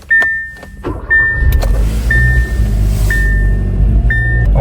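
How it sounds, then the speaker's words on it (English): A car that had not been running turns over and starts. A repeating electronic chime beeps about once a second over a deep engine rumble that settles into a steady idle, with a few thumps and clicks at the start. "Right now we're gonna go ahead and start the car."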